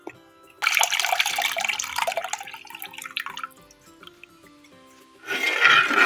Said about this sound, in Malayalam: അപ്പോൾ നമ്മൾ പുളിവെള്ളം ചേർത്തു